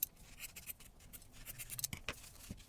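Scissors trim fabric for a no-sew heart ornament, making a faint run of quick, soft snips and scrapes with a couple of sharper cuts near the end.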